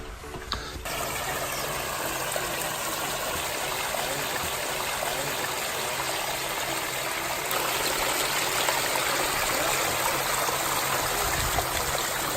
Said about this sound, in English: I hear water.